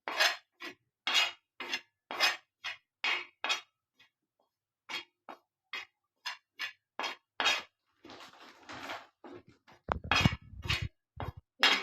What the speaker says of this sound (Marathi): बेसन पीठ परतत राहायचं